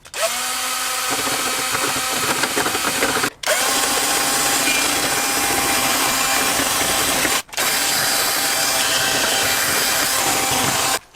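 A power drill bores out metal bonnet pin holes in three long, loud runs, each separated by a brief pause, with a steady high whine throughout.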